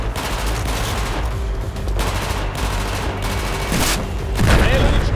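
Gunfire fills a Battlefield battle scene in the South China Sea: repeated close, loud shots and bursts crack out in an uneven rhythm, ending in a heavy boom, with no talk.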